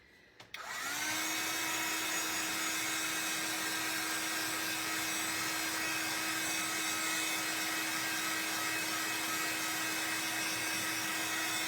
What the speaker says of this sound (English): I'm just gonna plug in my heat tool.